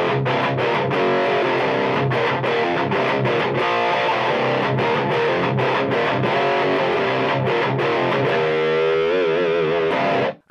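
Heavily distorted electric guitar through a noise gate plays loud, dense chords, cutting in and out with abrupt silences between strums, then a final wavering sustained note that clips off sharply.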